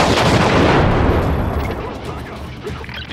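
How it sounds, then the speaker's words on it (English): Rockets explode in the video game Just Cause, a loud, booming blast with dense rumbling gunfire-like crackle that surges at the start and then slowly fades and decays over a few seconds. "Stop shooting rockets at me."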